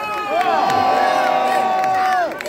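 A crowd cheers and whoops for sailor Charlie Dalin, a sustained wash of voices with rising and falling shouts that holds steady for a couple of seconds before tapering off.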